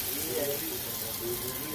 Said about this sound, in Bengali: এবার সয়াবিনটাকে দিচ্ছি, সয়াবিনটাকে ভাজবো।